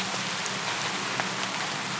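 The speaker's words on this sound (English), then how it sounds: "listen to the rain drumming softly on the" Rain drumming softly and steadily on a canvas tarp overhead, a dense even patter of drops with no voices.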